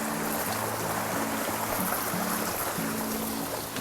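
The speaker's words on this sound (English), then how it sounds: "a really nice running stream right there. That's what we were hearing." A creek on the Appalachian Trail rushes and babbles steadily, a continuous broadband wash with a faint low hum underneath, no voices.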